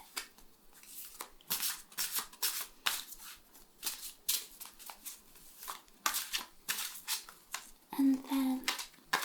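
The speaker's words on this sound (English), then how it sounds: "There are tons of ways to shuffle, mix up the cards" Oracle cards shuffled by hand in repeated quick riffling bursts, close and crisp, with soft speech at the end.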